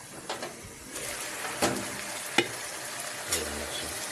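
Marinated chicken adobo fries in a covered pan with a soft, continuous sizzle, joined by several sharp clinks and taps from the pan or lid.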